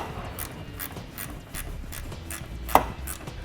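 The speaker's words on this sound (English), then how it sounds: "take a small 1/4 inch ratchet, you can get in there and you have enough room to make contact and loosen up the bolts" A small 1/4 inch ratchet loosens 8mm bolts on a 2016 Lincoln MKX, giving a steady run of light, evenly spaced metallic clicks, about two or three per second, with one sharper clack near the end.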